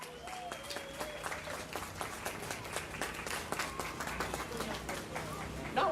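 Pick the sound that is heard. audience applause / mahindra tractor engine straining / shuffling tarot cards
audience applause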